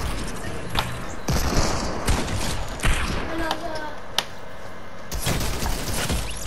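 Shotgun blasts in a video game, several spaced heavy booms mixed with thuds and mechanical handling sounds over busy background game noise, with a person talking at times.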